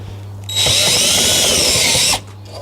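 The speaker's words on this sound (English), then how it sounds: "I'm just going to drill through." A power drill whines loudly for about two seconds as it bores through a car spoiler on a Vauxhall Corsa, starting and stopping abruptly against a quiet low hum.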